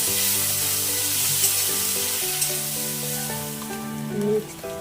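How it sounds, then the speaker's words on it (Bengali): Chopped onion fries in hot oil with bay leaf, giving a steady close sizzle throughout, with tonal sounds in the background and a brief stirring scrape near the end. "দিয়ে কিছুক্ষণ নেড়ে আমি পেঁয়াজ কুচিটা দিয়ে দেবো।"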